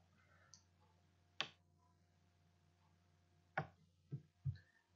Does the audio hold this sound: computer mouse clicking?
yes